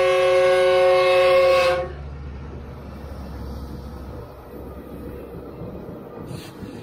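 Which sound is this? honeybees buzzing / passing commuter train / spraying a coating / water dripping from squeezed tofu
passing commuter train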